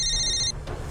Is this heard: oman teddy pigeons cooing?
no